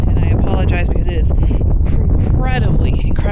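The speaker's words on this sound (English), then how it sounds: "incredibly windy down here at the lower elevation." Heavy wind buffets the microphone outdoors at a low-elevation spot near Mt. Charleston, a loud, constant low rumble beneath a person talking.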